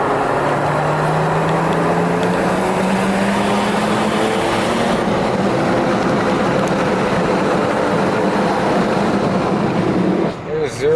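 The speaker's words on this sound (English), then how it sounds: "Let me get around this corner and I'm going to floor it for you" A Mercedes-Benz W124 station wagon accelerates hard at full throttle, its engine note rising steadily under loud road and wind roar, with a brief dip near the end.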